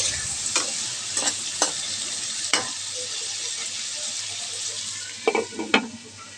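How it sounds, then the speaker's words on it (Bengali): Potatoes and tomatoes being stirred in a frying pan, a steady sizzle throughout with a few sharp scraping clinks of the utensil, louder clatter near the end, close and alone without talk. "একটু নাড়াচাড়া করে ঢেকে দিচ্ছি।"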